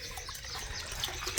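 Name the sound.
filling water from a tap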